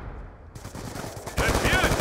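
Bursts of gunfire from Call of Duty Black Ops 2 on PS3, a rapid rattle of shots that grows louder and denser in the second half, with a faint voice underneath.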